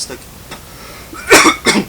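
A couple of harsh, bursty coughs close by from a sick man, the second shorter than the first, after a quieter stretch with faint breathy sounds.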